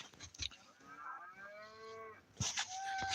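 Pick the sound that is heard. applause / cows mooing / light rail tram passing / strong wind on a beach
cows mooing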